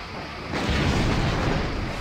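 Photon torpedoes strike a Cardassian weapons platform in a Star Trek ship battle game, a sudden heavy explosive rumble that swells after a quiet start and holds loud and dense to the end.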